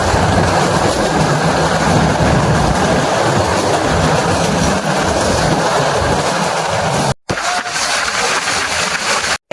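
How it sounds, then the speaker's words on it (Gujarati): A train passes close by with a loud continuous roar and rattling of wheels on track, steady throughout with a brief break near the end. "આ ટ્રેન હશે"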